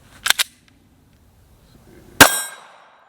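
A Taurus G3 handgun fires a single sharp, loud shot with a brief ringing tail, preceded by two quick mechanical clicks and otherwise quiet surroundings.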